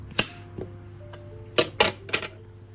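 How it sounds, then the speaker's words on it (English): Several sharp knife strikes on a cutting board as a lemon is chopped, a couple of isolated taps followed by a quicker cluster of three cuts, close and fairly crisp over a low steady background hum. "So I'm going to chop up a lemon."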